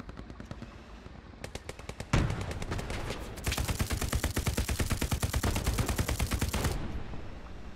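Heavy machine-gun fire from a Sherman tank in Hell Let Loose, a steady rapid stream of shots that grows louder and denser midway, then eases toward the end.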